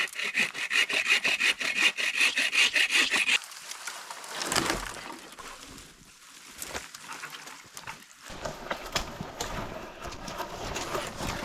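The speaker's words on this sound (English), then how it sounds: "I just cut a bunch more trees. Got a good pile of firewood here." Saw cutting through small trees for firewood in a frigid winter camp, a fast run of rhythmic rasping strokes at first, then quieter rustling, snapping and handling of wood, ending with more scraping.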